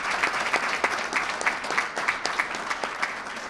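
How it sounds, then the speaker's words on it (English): A crowd at a public safety event for the county executive claps steadily, with individual sharp claps standing out from a dense, even wash of applause throughout, no speech over it. "Let's give a round of applause to Adam Bello"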